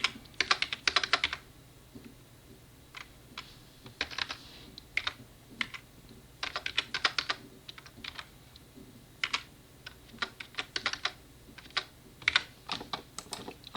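Computer keys clatter in quick close bursts as a formula is typed into Excel, the rapid clicks separated by short pauses, with no talking.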